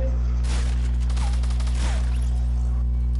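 Fortnite gunfire during a squad match, a quick flurry of shots over steady game hum and background music.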